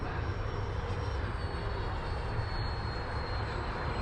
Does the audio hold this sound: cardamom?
no